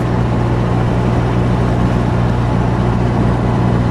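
A 1926 car's engine pulls steadily up a hill, a continuous low rumbling drone with a constant hum, loud and unbroken, with no voices.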